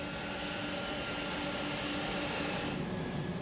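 An aircraft engine drones steadily at Frankfurt airport. The roar is continuous and moderately loud, with a faint tonal whine on top, and no one speaks.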